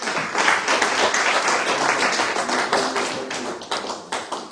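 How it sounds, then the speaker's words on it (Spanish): A church congregation applauds after a seminary teaching on tithes and offerings, a dense, continuous wash of clapping from many hands that stays loud throughout and thins slightly near the end. "Un aplauso, Señor,"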